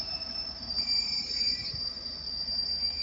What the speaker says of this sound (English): there goes 323-230 going from Manchester Piccadilly to Crewe